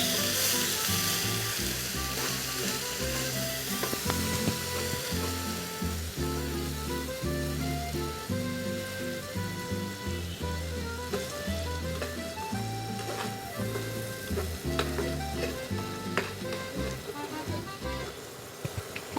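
Onion paste frying in a pan for a bitter gourd curry with shing fish, a loud continuous sizzle and crackle with stirring scrapes, while background music plays throughout.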